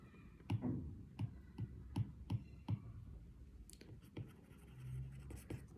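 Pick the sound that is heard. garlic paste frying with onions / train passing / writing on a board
writing on a board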